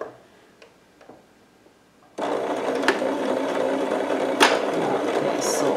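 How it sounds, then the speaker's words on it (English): A sewing machine stitching a quilted potholder starts after a quiet lead-in with a few small clicks, then runs steadily and fairly close for several seconds, sewing forward and back. "I'm going to do a couple of stitches forward and a couple of stitches back."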